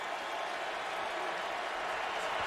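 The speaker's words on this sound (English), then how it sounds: "Crowd gets loud as it's 3rd and 9" An NFL stadium crowd in Indianapolis roars on third down against the Saints, a steady, broad wash of distant cheering that holds level throughout.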